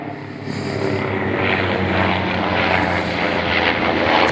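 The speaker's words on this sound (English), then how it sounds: "Police helicopter again." A red royal helicopter flies overhead in the UK, its rotor and engine drone loud and steady, swelling as it passes close above with no talk.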